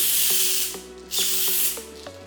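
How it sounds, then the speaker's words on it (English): Auto shampoo sprayed from a hand sprayer onto a car's side mirror: close, steady hissing spray in two long bursts with faint trigger clicks throughout. "So I like to spray it directly on the mirror."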